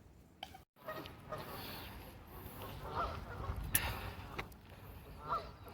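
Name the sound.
ducks quacking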